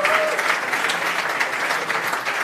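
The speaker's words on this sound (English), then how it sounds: "Big round of applause for all of them" A conference audience applauds the panel at a talk on office design: dense, sustained clapping from a crowd, fairly loud and steady for the whole stretch, with a voice faintly over it.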